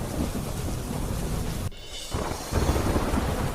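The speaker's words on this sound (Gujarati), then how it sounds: "અમદાવાદમાં વરસાદ વરસતા રસ્તા પાણી પાણી થયા" Heavy rain pours steadily in Ahmedabad city streets, a loud, dense hiss broken by a brief sharp cut before the downpour returns even stronger.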